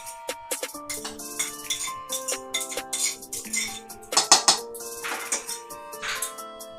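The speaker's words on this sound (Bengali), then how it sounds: "এটাকে ভালোভাবে মিশিয়ে নেব" Carrot and coconut paste being mixed into cake batter in a metal bowl, a close series of uneven spoon clinks and scrapes against the bowl, with bright ringing taps in quick bursts.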